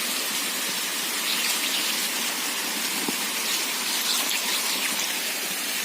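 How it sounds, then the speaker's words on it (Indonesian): A hand rubs small gold ore rocks around a plate, giving a continuous gritty, hissing scrape, close and steady throughout with no talking. "itu suara gesekan tangan saya dengan batuan kecil."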